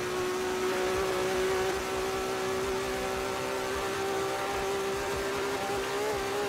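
Race car engine at full top speed in Forza Motorsport 7, a steady, loud sustained drone with a constant high-pitched whine holding throughout, no talk.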